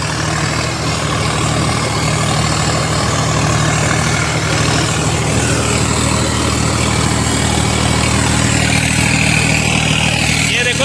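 A Swaraj 855 4x4 turbo tractor pulls a rotavator through a field in low second gear, its diesel engine a loud steady chugging drone, close by and unbroken throughout.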